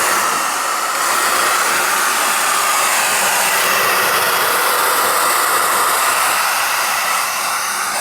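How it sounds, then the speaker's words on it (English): Hair dryer blowing on a Fiat 500 steering wheel during repair, a loud, close, steady whooshing roar running without pause. "we'll just use the heat gun or the hairdryer, the Mrs. Hairdryer, and let's just dry this off"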